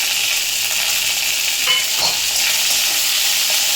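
Boiled kharkol leaves fry in hot oil, giving a steady, loud, close sizzle. Brief stirring scrapes cut through in the middle of the clip, and no one speaks.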